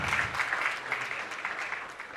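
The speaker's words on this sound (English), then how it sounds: "A big round of applause for him." An awards ceremony audience claps in a dense, steady wash of applause that holds for the whole stretch at moderate loudness, with no speech over it.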